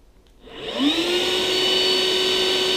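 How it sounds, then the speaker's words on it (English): A Makita 36V cordless backpack vacuum (DVC260ZX) in normal, highest-suction mode spins up from quiet to a steady, loud, close whine with a rising motor pitch, with no talking. "So this is how loud it is once you turn it on."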